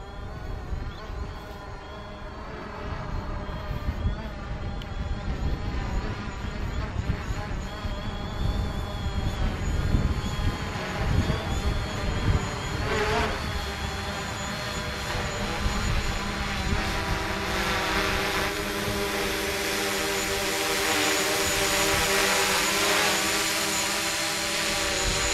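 A DJI Mavic Pro drone flies nearby with a continuous buzzing, whining rotor drone whose pitch and loudness shift slightly over about twenty-five seconds, with no talk.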